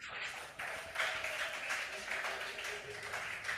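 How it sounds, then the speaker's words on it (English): An audience applauds contest champions at a regional quiz qualifier, a steady wash of clapping from a fairly distant crowd lasting several seconds. "Let's give them a big round of applause."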